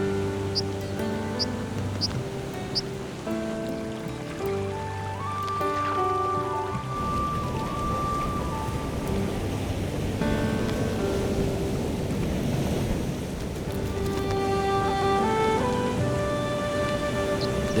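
River rapids rushing among boulders in the Scottish Highlands in spring, a continuous broadband wash of flowing water with some brief bird chirps at the start.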